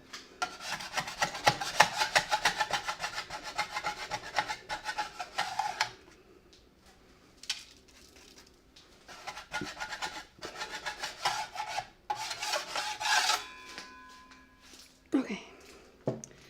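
Rasping scraper working over hardened root beer candy on a sheet, in bursts of steady scratchy strokes broken by short pauses, close and fairly loud, with a brief clink near the end.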